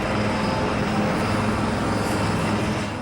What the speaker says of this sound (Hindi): राफेल की इस गर्जना और रफ्तार से रोमांचित होगा